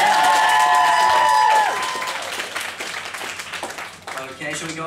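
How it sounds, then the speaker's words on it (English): An audience at a fun costume competition applauds, with a dense burst of clapping and cheering that tapers off, while voices and music carry on underneath. "So can we get some applause going?"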